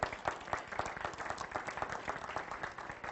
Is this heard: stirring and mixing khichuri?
no